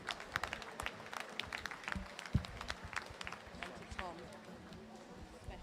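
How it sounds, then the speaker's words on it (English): Applause ripples through a crowd at a long-course swimming championship, scattered claps rising and falling under a speaker's amplified voice in a reverberant pool hall. "Let's give a big round of applause for them,"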